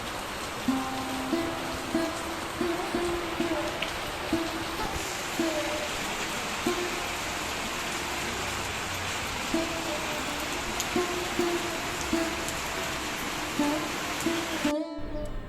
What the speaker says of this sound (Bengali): দেখো এদিকে বৃষ্টিও হচ্ছে